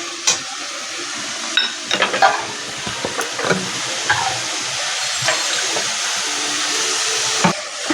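Ginger, garlic and green chilli paste frying in oil while being stirred, a soft continuous sizzle broken by scraping and clinking of a spoon against the pan, close and moderately loud, no voices.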